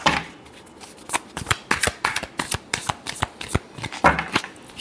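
Tarot cards being shuffled by hand in a quick series of crisp riffling snaps and flutters, close and fairly loud with short pauses between bursts, no talking.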